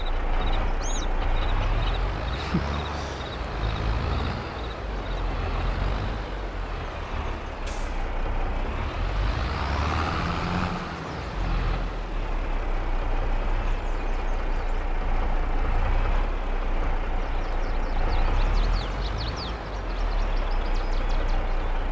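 A semi-truck in the Farming Simulator 22 video game idles with a deep diesel drone, punctuated by sharp hissing air-brake releases and occasional reversing beeps, loud and close throughout.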